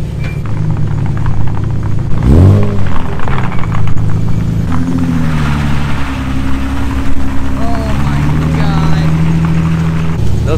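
Toyota Supra cars drift on ice, their engines revving hard with rising and falling whines and a loud upward sweep, rough exhaust rumbling beneath, close and dominant throughout.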